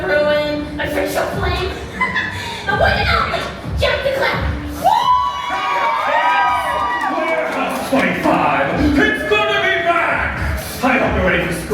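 Crowd at Universal Horror Unleashed, Universal Studios Hollywood, screaming and cheering loudly throughout, with shrill rising screams and whoops over a dense roar of voices and shouting.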